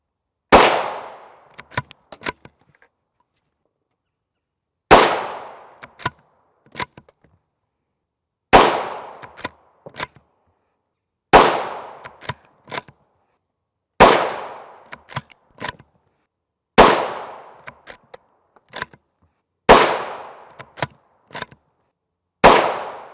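A 22-inch rifle on a TC Compass action in an Oryx chassis fires 5.56x45mm M855 FMJ rounds, eight loud sharp single cracks spaced a few seconds apart, each followed by a short ringing tail, metallic clicks and silence.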